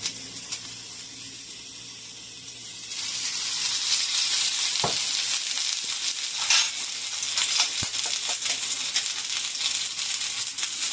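Onions and oil sizzling in a pan for an egg and bread breakfast, a quiet start that swells into a bright, steady frying hiss with a few sharp clicks of utensils.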